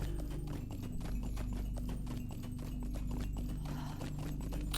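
Steady, rapid horse hoofbeats from a mount ridden through enemy territory in the video game Lord of the Rings Online, with a continuous low hum of game ambience underneath and no talking.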